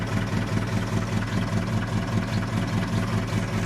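A Ford Transit van engine idles steadily after being started, with a low, even rumble from the exhaust, close and continuous with no rev changes throughout.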